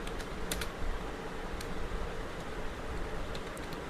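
Code being typed on a computer keyboard during a Python lesson on binary files, with scattered key clicks over a steady low hiss and no talking.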